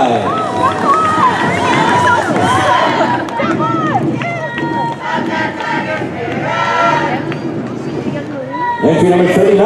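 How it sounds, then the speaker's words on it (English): A crowd at a veterans parade in Delano cheers and claps as a group passes, loud layered shouts and whoops mixed with applause, with voices talking and calling out throughout. "Another round of applause, Filipino American National Historic Society of Delano."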